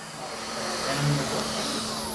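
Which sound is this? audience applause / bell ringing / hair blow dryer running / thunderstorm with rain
hair blow dryer running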